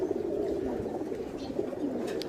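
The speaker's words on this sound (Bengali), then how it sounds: "আরও আসতেই দেখেন নামতেছে কবুতর" Racing pigeons settle at their loft, soft cooing and low murmuring calls running steadily under a faint, even background hum.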